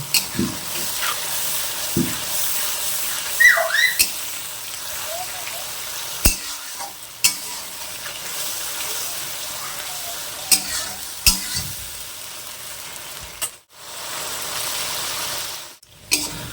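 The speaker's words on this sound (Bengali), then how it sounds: "ভালো করে মশলাটাকে কষে নেব, যতক্ষণ না মশলা থেকে কাঁচা গন্ধ বেরাবে ততক্ষণ কষে নেব।" Spice paste for chicken curry is stirred and fried in a pan, giving a continuous moderate sizzle with scattered scrapes and knocks of a spoon against the metal, briefly dropping out near the end.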